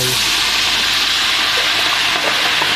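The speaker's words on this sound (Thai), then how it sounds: "ต่อมาครับน้ำมันหอยเทลงไป" Oyster sauce poured into a hot frying pan while making stir-fried holy basil with squid roe, giving a loud, steady, hissing sizzle throughout.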